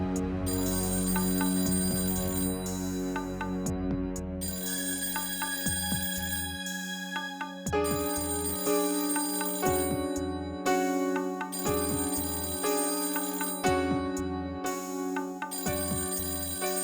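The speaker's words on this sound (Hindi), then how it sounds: "रात को हॉल का फोन बज रहा है।" A telephone in a hall rings at night, loud and repeated, each burst of bright electronic trills separated by short silent gaps, with no talk over it.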